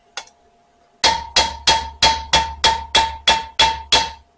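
A ball peen hammer forges a hot steel Viking-style knife blade on an anvil. After one light tap come about ten loud, evenly spaced ringing blows, close by.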